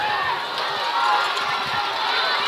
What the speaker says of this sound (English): You hear the Sumrall fans cheering on its defense.